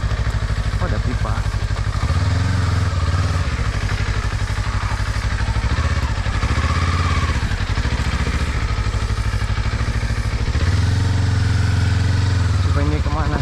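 A Kawasaki KLE 500 motorcycle rides off-road along a rough trail, its engine thrumming loud and close throughout, swelling with throttle several times and easing back, while someone talks over it.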